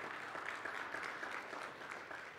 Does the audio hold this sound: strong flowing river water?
no